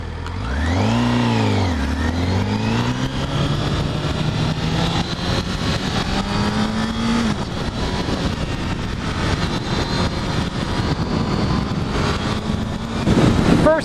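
A 2012 Honda CBR1000RR motorcycle pulls away on a road, revving up and down in quick sweeps before holding a sustained, strong engine drone with wind rush, swelling louder near the end.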